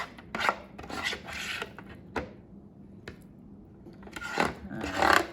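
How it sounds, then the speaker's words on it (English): A utensil chops and scrapes ground meat in a hot pan for spaghetti sauce, giving repeated close scraping strokes and rasping rubs over a steady sizzle, with no talk. "we're gonna use this to chop it so it's really fine, so you don't have any big clumps of meat in your sauce"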